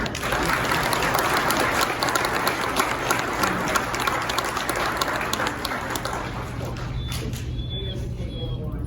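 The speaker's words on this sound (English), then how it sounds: "A round of applause for Sergeant Zarletti." A crowd applauds at the Kenosha County Sheriff's Department promotion and awards ceremony, steady loud clapping filling the room for several seconds before thinning out near the end.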